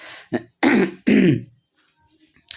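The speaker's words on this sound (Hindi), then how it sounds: "थोड़ा सा गला फंस रहा है, थोड़ा सा खांसी हो चुका है" A man clears his throat and coughs: a small rasp, then two loud, harsh hacking bursts close together, followed by near silence.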